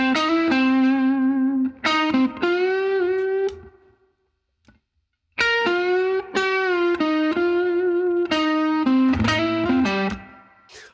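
A slow blues lick in C played on an electric guitar with a slightly driven tone: sustained bent notes and short phrases, a gap of silence midway, then a second phrase that rings out, loud and close.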